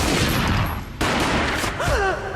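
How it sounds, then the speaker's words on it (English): Gunfire rings out in the video game Max Payne, a loud burst of shots with a sharp crack near the middle, followed by a brief whining tone near the end. "A gunshot boomed and she fell down in slow motion."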